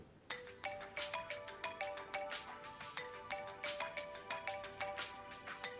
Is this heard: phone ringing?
yes